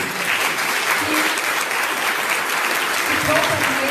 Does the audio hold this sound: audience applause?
yes